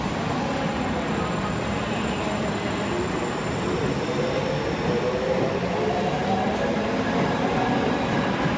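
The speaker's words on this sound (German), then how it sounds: "Ich nehme jetzt mal die nächste U-Bahn." A Tokyo subway train rumbles steadily on an underground line for over eight seconds, a loud continuous roar of wheels on rails with faint rising whines and a high squeal, no voices.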